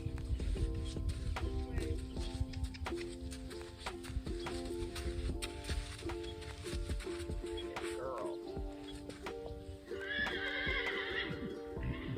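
Horses whinny and snort in the background from a turnout while hooves clop steadily on the ground, with a longer high neigh standing out near the end.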